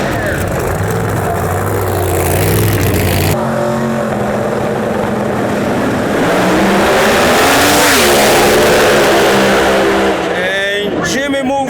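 A drag racing car launches down the strip at an outlaw drag meet, its engine roaring loudly and rising in pitch as it accelerates away, with an announcer talking over the noise.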